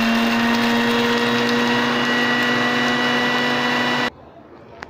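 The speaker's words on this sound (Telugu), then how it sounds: "సో ఇప్పుడు మనం దీన్ని మిక్సీ పెడతాం" An electric mixer grinder grinding garlic pieces and a piece of ginger whirs loudly and steadily for about four seconds, then cuts off abruptly into quiet.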